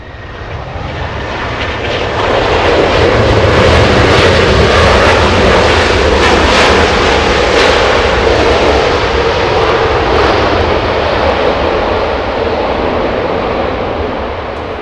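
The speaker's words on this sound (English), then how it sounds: "This is going to be an early touchdown on 24 right." An airliner touching down on runway 24 right at Los Angeles International Airport produces a loud, sustained broadband jet roar that swells within the first few seconds and holds steady throughout.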